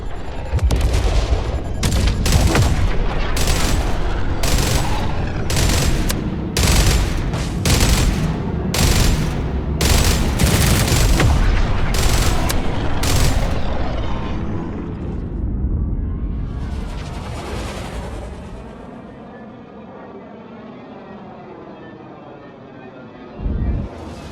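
Gunfire in the game Jump Ship: loud, rapid bursts of repeated shots in a steady rhythm over about fifteen seconds, layered on a heavy engine-like drone. The shots then stop, leaving a fading whine, a rumble and one final thump.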